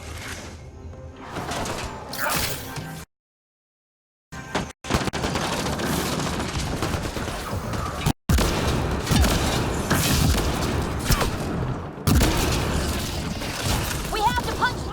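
Sustained gunfire and booming impacts from a Mass Effect Andromeda firefight, loud and dense with brief cut-outs, mixed with game music and effects while characters talk over the combat.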